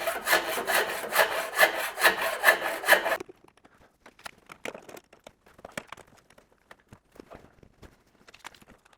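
A handsaw cuts wood while shaping a wooden boat stringer, making about three seconds of rhythmic back-and-forth strokes up close, followed by quiet scattered clicks and handling noises.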